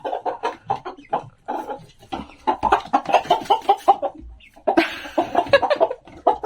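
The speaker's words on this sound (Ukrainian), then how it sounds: "Це мастер грей, курка і її цепля." A hen of the Master Gray breed clucks repeatedly up close, with the high peeping of her chicks scattered through, in short uneven bursts and pauses.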